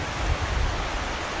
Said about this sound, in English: There's the other creek. You know, the main creek.